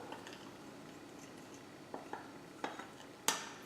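A spoon blending gluten-free oat flour into keto muffin batter in a bowl, giving faint soft scraping with a few light clinks of metal against the dish, quiet and close, with no talk.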